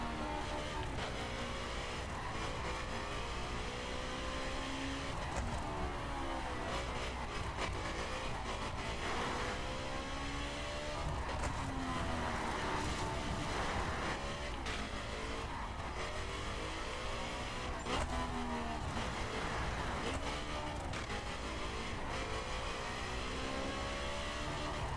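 Car engine in The Crew 2 racing game, a continuous loud drone with rising and falling revs and shifting pitch sweeps for the full twenty-five seconds, alone without talking.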